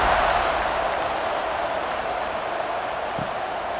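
A stadium crowd in College Football 26 gameplay, BYU vs Colorado, roars steadily as a kickoff approaches, a dense, even wash of cheering noise holding at a constant level throughout, with no voices standing out.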